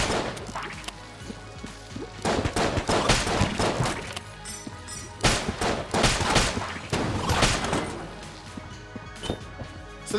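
Gunfire from enemies in Enter the Gungeon comes as loud bursts of shots and crashing impacts in irregular waves, with short pauses between volleys.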